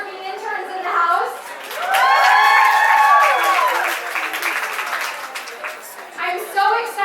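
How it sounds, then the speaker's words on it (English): Party crowd at an interns' celebration bursting into loud applause and cheering, with whoops and a high voice rising over dense clapping, then settling into sustained clapping with scattered shouts. "I want a round of applause for all of the hardworking interns in the house."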